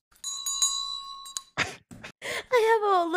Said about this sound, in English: I have a little bell for him.